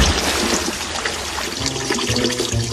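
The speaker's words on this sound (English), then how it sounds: "Maybe if I can make this little pump stop dripping, I can think." Small mechanical pump dripping and trickling water, with a continuous splashing, flushing wash of liquid and low gurgles, loud and close throughout, with no voices.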